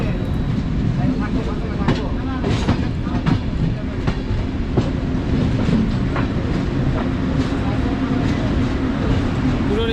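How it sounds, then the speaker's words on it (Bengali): Jammu Tawi Express pulling into Lucknow Junction, a steady loud rumble of rolling rail wagons with faint clickety-clack and scattered clanks throughout, voices murmuring underneath. "আর এখন একদম নির্ধারিত সময় আমাদের ট্রেনটি লাকনাও জাংশনে প্রবেশ করছে"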